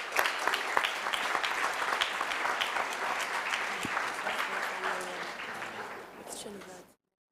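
Assembly delegates break into dense, sustained clapping that holds steady for several seconds, then thins and fades out quickly toward the end.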